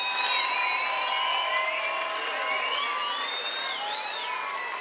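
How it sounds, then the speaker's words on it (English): Crowd applauding and cheering after a five-round bare knuckle boxing title bout, a steady dense wash of clapping with whoops and whistles running throughout at moderate loudness. "big round of applause for both of these warriors"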